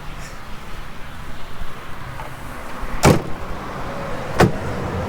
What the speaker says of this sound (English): let me close all the doors here.